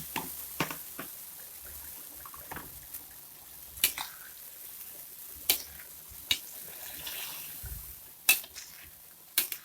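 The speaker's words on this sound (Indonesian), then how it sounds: "Santannya sudah mendidih, kita masukkan jengkol yang sudah kita goreng sebentar tadi." Fried jengkol pieces dropped into a pot of boiling coconut milk for jengkol pati santan, giving soft bubbling and simmering with several sharp clinks of a utensil against the pot, no talking.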